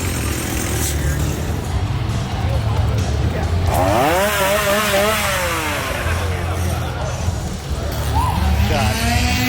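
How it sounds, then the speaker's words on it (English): A chainsaw revs loudly in a Halloween horror scare zone, its whining pitch rising and falling over a dense crowd roar with people talking throughout. "I hate chainsaw"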